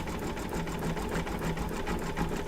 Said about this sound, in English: our favorite satin stitches are stitching over it